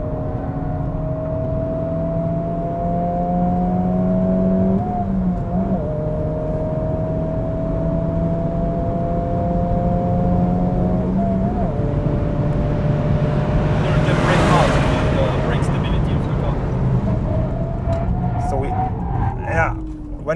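A 2023 Honda Civic Type R pulls hard in fourth gear at around 110 km/h, its engine droning loudly with steadily climbing tones and a brief whoosh midway, while people talk over it inside the cabin.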